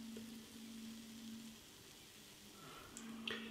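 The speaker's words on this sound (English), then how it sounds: "Bit of a sizzle going on." Faint, steady crackling sizzle of Spam fritters frying golden brown, with a low hum underneath and a few small pops near the end.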